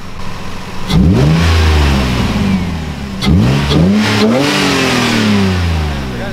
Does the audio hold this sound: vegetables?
no